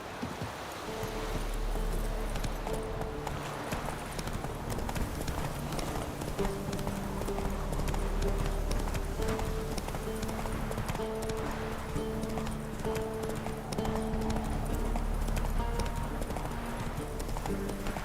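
Hooves of Roach, a horse galloping in The Witcher 3, beat a fast, steady clip-clop rhythm at close range over a continuous low rumble, running on without pause.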